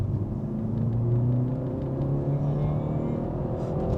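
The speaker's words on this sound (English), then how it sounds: "I'm gonna do one pull on third gear from 1500 RPM" A 2019 BMW 330i in sport mode with manual gears runs a third-gear pull from 1500 RPM, its engine a steady low rumbling drone that rises gradually in pitch, close and continuous throughout.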